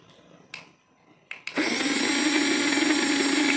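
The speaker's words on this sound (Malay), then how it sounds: "Boleh belilah blender ni" A countertop blender starts up with a sharp click and then whirs steadily at full speed, making pomegranate juice; a few short clunks come just before the motor kicks in, and no one speaks.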